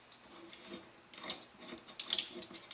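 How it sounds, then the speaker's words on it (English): Metal clicks and ratcheting scrapes as an Allen wrench works bolts loose from underneath, quiet and close, with small irregular bursts of mechanical rattling and a few sharper metallic ticks near the end. "I just have an Allen wrench, and I will remove the nuts here, or the bolts"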